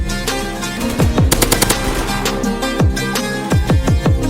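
Machine gun fire in a video game roleplay, loud rapid bursts of automatic shots repeating in several volleys across the whole stretch, with no talk over them.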